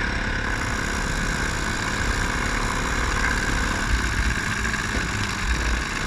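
A 2000 Honda CR250 two-stroke dirt bike engine idles steadily nearby, a continuous even drone with no revving and no voices.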